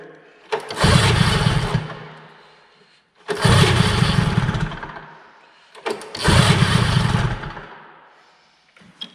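An old Ski-Doo Elan 250 twin snowmobile engine catches three times in a row, each a loud, close burst of ragged firing lasting about two seconds before dying out, separated by quiet pauses.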